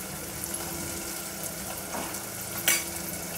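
Ginger-garlic paste sautéing in a pan for a Solapuri dalcha, a steady low sizzle with occasional stirring scrapes and a brief clink near the end, no voices.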